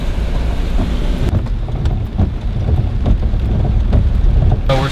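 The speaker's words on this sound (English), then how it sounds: "the rain has really started to come down hard again" Heavy rain and gusting wind lash a car driving along a flooded Highway 59 during Hurricane Harvey, a loud, steady roar of downpour and wind noise with scattered thumps and no talking.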